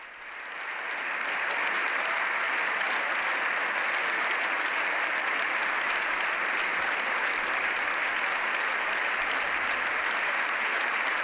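Sustained applause fills the Spanish Congress chamber, rising quickly and then holding as a thick, uniform wash of clapping from many deputies for over ten seconds, loud and close, without any speech on top.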